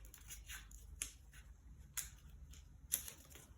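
Scissors cut down the middle of paper circles in three crisp snips about a second apart, quiet and close with a faint rustle between.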